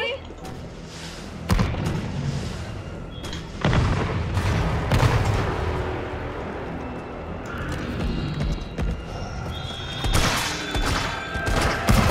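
Heavy booming blasts from a rocket launcher in Resident Evil 3 Remake hit at intervals, mixed with gunfire and impacts, as a voice talks over the action.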